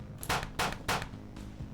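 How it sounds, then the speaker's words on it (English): Three gunshots from a handgun in the visual novel Fatal Twelve, fired into a staff member's gut, crack out in an even rhythm over a steady low background hum, the first two loud and the third fainter. "He brings his left hand up to steady the gun before firing 3 shots into the staff member's gut."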